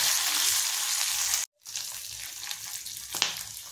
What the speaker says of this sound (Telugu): సిమ్లో పెట్టుకుని ఇవన్నీ 5 నిమిషాలు 10 నిమిషాలు వేపించుకుంటూ సరిపోతుంది.